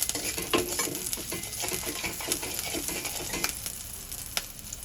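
Chopped green chili and garlic cloves sauté in ghee with a bright, continuous sizzle. Quick scraping stirs come through close up, and no voices can be heard.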